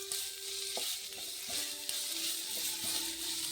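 Vegetable pieces frying in a hot tempering with coarse salt and chilli, a continuous close sizzle with occasional scraping stirs of a spatula against the pan.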